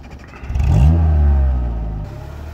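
A Suzuki Samurai off-roader in low gear in sand revs hard, its engine climbing to a loud, steady roar for about a second before easing off, close and with no talk.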